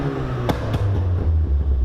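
Ford Focus ST engine revs up under load, a close, loud rising engine roar with a couple of sharp bursts and sustained low rumble, no talk heard.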